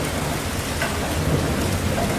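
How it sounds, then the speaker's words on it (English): Steady rain falling, a dense continuous hiss of drops on surfaces with a low rumble underneath, loud and close and holding evenly throughout, with no voices. "That is rain."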